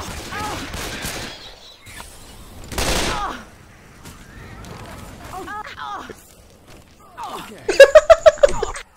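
Gunfire in Left 4 Dead 2, with scattered shots and a loud close burst of rapid automatic fire near the end, mixed with game effects and voices talking over it.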